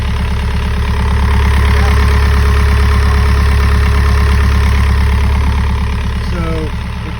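An engine idles loud and close with a steady, even low throb that stays constant throughout, while batteries are charging.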